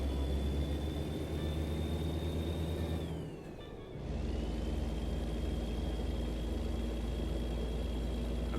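Truck engine in American Truck Simulator hums at a steady idle with a tonal whine, dips briefly as the revs drop and shift, then settles back into a constant low drone.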